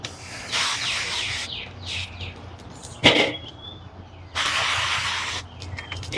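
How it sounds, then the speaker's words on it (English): Two sustained bursts of aerosol beef tallow spray hiss close by onto corn on a grill, separated by a sharp click, over a low background rumble. "I'm going to spray it with sprayable beef tallow"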